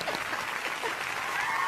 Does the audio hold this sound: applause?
yes